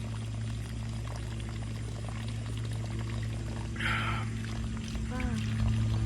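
Spring water pours briefly into a cup near the middle, a short splashing gush over steady background hum, with talking around it.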